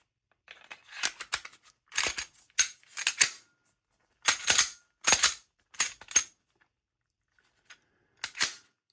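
A pistol being reassembled, its barrel and dual recoil spring fitted back in, gives a series of sharp metallic clicks and rattles in irregular bursts, close and fairly loud, with no one talking.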